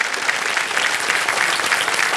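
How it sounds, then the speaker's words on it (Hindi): A studio audience on a televised quiz game show claps steadily and loudly for a couple of seconds, a dense continuous burst of applause. "एक बार फिर तालियों के साथ हम उनका यहाँ अभिनंदन करते हैं"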